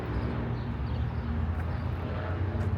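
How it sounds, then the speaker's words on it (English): Steady, low rumbling roar of traffic on the 105 freeway, heard from just over an embankment near the site of the Beach Boys' childhood home, a constant wash of passing cars with no talking. "You can hear the traffic on the 105."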